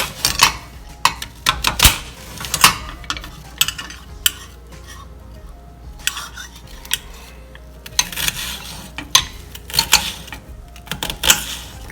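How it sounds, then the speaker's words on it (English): A knife slices and dices onion on a cutting board beside a stove, making irregular sharp taps and chops in uneven bursts over a low background hum. "once you cut it in half, then just start slicing and dicing"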